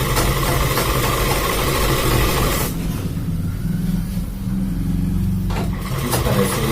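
Sewing machine running a hem stitch along the edge of men's underwear fabric, a steady mechanical motor hum with rapid needle chatter, continuous and fairly loud, briefly thinning midway before resuming.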